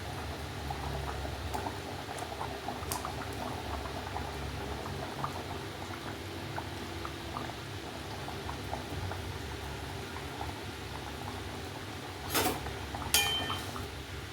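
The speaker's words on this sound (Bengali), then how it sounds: "আলু আর একটু সেদ্ধ হবে" Katla fish curry with potatoes bubbling in a pot in a village kitchen, a steady low simmering burble throughout with a couple of brief metallic clinks near the end; no one talks.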